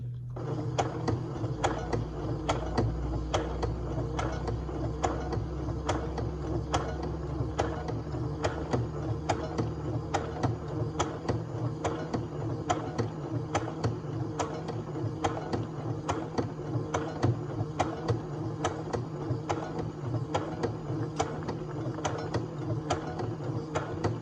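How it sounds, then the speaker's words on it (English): A sewing machine stitches a pattern weight in a steady, rapid mechanical rhythm of needle clicks over a low motor hum, continuous and close for the whole stretch, with no talking. "And then I begin to sew again."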